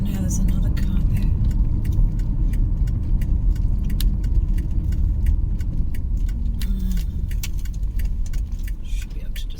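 A car rolls slowly into a parking space, steady low engine and road rumble running throughout at close range, with light jingling clicks on top.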